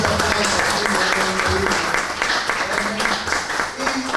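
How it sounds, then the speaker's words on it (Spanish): Audience at a philosophy of science and technology congress breaks into sustained applause, a dense steady clapping that fills the room with a few voices mixed in. "Queremos despedirlo a usted con un fuerte aplauso aquí."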